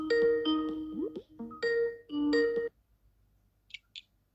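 A Skype call ringing, its melodic electronic tune playing in a few bursts for about two and a half seconds, then a short pair of faint chimes after a pause.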